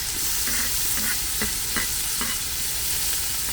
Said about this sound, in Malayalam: നമുക്ക് നമ്മുടെ തക്കാളി ഇട്ട് കൊടുക്കാം.